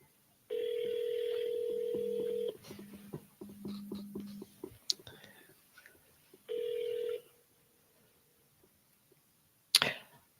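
A phone call is placed: a long electronic ringback tone sounds, then a run of short beeps and clicks, another ring tone, and a sharp crackle at the end, heard alone in a quiet room.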